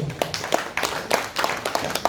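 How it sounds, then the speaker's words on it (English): Scattered, sparse clapping from a small group at a university symposium, uneven and fairly faint, fading in and out. "A round of applause once again."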